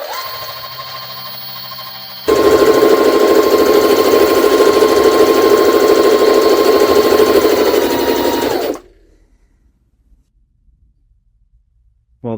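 A Jaguar SJ-23 sewing machine runs a straight stitch through organza, its motor humming loud and steady for about six seconds after a quieter idle, then winding down to near silence.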